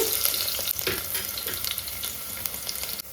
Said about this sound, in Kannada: ಈರುಳ್ಳಿ ಹಾಕಿದ ನಂತರ ಅದು ಫ್ರೈ ಆಗುವಾಗಲೇ